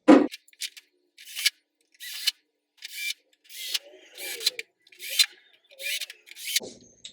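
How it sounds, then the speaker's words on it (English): Metal screws being driven in with a bar tool while assembling an MCombo furniture piece, a series of about eight short scraping, ratcheting bursts spaced evenly, close up with brief quiet gaps between turns. "I'm going to grab my bar and my screws and screw them in."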